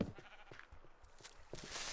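Minecraft sheep bleating softly a few times at a distance, short faint calls scattered over a quiet game background.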